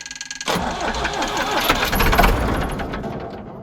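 An old Versatile tractor engine cranks and sputters to life with rough, knocking chugging, loud and close, continuing unevenly after the initial catch.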